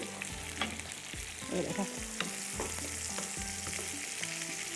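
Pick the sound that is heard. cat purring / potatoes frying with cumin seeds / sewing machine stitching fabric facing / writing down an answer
potatoes frying with cumin seeds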